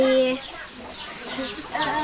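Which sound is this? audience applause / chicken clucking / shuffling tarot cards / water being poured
chicken clucking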